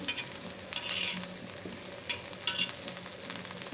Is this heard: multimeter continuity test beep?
no